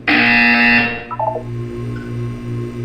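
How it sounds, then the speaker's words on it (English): A loud electronic buzzer from the Portal 2 video game sounds alone: a harsh sustained tone that cuts off after nearly a second, then trails into a low pulsing hum. "You will hear a buzzer."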